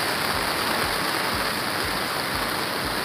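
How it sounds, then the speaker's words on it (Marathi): A river waterfall where three rivers meet roars as a constant broadband rush of falling water, close and steady, with faint low thuds beneath. "तिकडे तो फॉल वॉटरफॉल समोर दिसतोय बघा"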